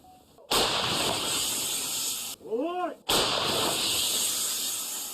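Booming blasts from a self-propelled artillery gun, very loud and close, separated by a short gap, each followed by a long rolling decay.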